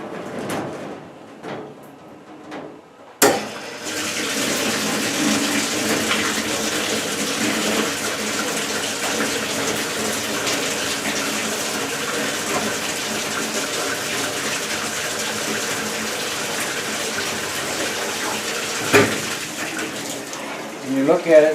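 Commercial dishwasher pre-filling with water: a loud, steady gush of running water starts after a click and continues for about eighteen seconds, with faint talk at the start.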